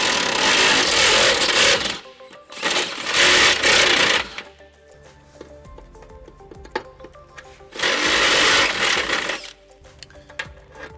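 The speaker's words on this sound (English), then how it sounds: "So to enlarge that hole, we're going to use our step bit." A step drill bit grinds through the steel frame of a 2015 Nissan Altima to enlarge an access hole, loud whirring bursts in three drilling runs separated by quieter pauses.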